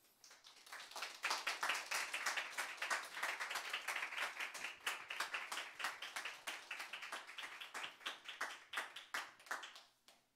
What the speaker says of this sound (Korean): 공동체의 따뜻한 환영의 박수로 맞이해 주시면 감사하겠습니다